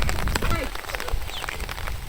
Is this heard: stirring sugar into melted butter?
no